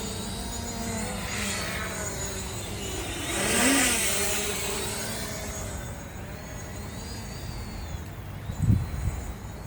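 A Hubsan Zino quadcopter drone holds altitude in flight, its steady buzzing motor whine running throughout at moderate distance, swelling briefly in the middle before a short louder bump near the end.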